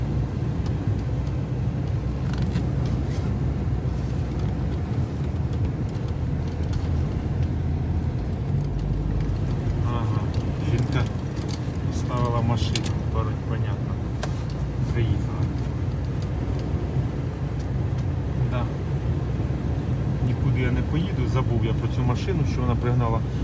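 A car with a repaired ABS fault and automatic-transmission limp mode drives along with a steady low engine and road rumble, faint clicks and knocks, and people talking inside the cabin.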